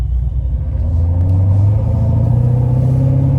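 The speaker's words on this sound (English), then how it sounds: "So starting the test drive in this Procharged Vet." A Procharged 2016 Corvette Z51 3LT on the road, its supercharged engine giving a loud, deep, steady rumble from inside the car that swells slightly as it pulls away.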